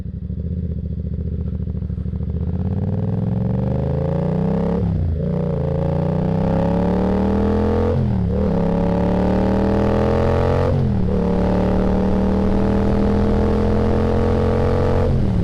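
A 2022 Yamaha R7 motorcycle engine drones loud and steady on a test ride, its pitch climbing through the gears with three brief dips at each shift before pulling again, no voices.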